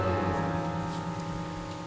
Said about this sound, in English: Tabitha appears near the waterfall only on rainy days.